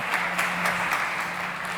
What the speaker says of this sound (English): A round of applause for Maria.